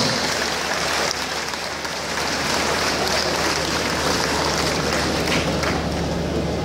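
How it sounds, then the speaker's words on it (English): A large audience at a government stewardship address in Lagos gives council members a big round of applause, a continuous dense roar of clapping under a low hum, sustained and fairly loud throughout. "Please give them a big round of applause."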